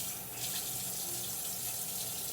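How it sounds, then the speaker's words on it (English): Tap water runs steadily into a sink while a boiled egg is rinsed to loosen bits of shell skin, a continuous close splashing hiss with no talk. "I'm just rinsing this one off a little bit to break off the little excess skin on the outside."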